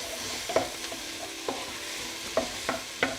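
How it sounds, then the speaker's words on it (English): Chopped garlic and ginger frying in a pan, with a quiet steady sizzle under several distinct spatula scrapes and knocks against the pan at irregular intervals. "We're going to give that a stir"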